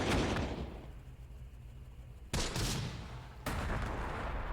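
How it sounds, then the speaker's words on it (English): Artillery fire in the World War II strategy game Close Combat: The Bloody First, with heavy booming blasts landing in a few separate bursts over a rumbling battlefield background. "Oh, there's the artillery."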